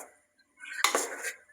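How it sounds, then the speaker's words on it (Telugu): A spoon stirs masala in a pan for a jackfruit biryani, a short burst of metallic scraping and clinking after a quiet pause. "ఇప్పుడు ఈ మసాలా అన్నిటిని మంచిగా కలుపుకోవాలి"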